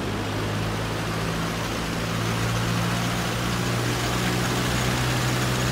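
A Cessna 172 engine runs up in the FSX flight simulator, a steady, loud propeller drone with a deep, even hum that holds without change for several seconds.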